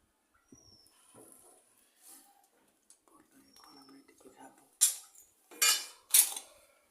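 Seeds scraped from a ripe papaya in a garden, with soft scraping and faint scattered clinks early on, then three sharp, loud clattering scrapes close by near the end. Quiet talk runs under the earlier part.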